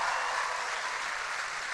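A group claps in a dense, even burst during an informal live stream, the sound steady and moderately close for under two seconds with no voices over it.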